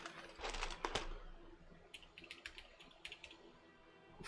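Quiet keystrokes on a custom F18X keyboard fitted with GMK Taro keycaps, an uneven run of soft, close clicks and taps with brief pauses between clusters.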